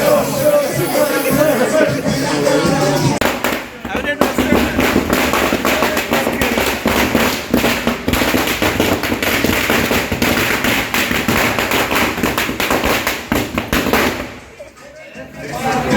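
Firecrackers bursting in a dense, continuous barrage around a seated groom at a wedding, loud and crackling without pause, with crowd noise mixed in before a brief lull near the end.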